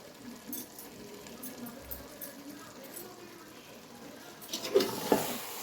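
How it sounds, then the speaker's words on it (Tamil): Marinated chicken with spices and lemon sizzles softly in a pan as it is stirred, a faint steady frying hiss with quiet scraping and a couple of louder utensil knocks near the end. "நல்லா கிளறி விட்டுலாம்."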